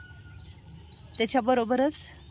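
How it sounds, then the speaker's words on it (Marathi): A quick run of high, thin house sparrow chirps at scattered rice and a water dish repeats rhythmically, then a louder voice-like call cuts in briefly. "आणि इकडं चिमण्या येतात भरपूर आपल्या इकडं चिमण्या"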